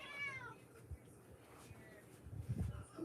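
A house cat meows once, close and clear, in a short rising call at the start, followed by quieter low voice-like sounds near the end.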